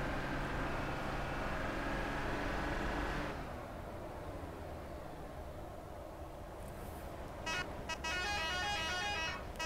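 In Euro Truck Simulator 2, a Mercedes 302 horn blares loudly for about three seconds over engine rumble on a snowy mountain road, then cuts off, leaving steady vehicle noise with a few brief higher tones near the end.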